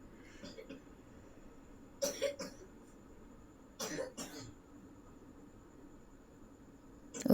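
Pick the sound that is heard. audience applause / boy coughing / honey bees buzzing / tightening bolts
boy coughing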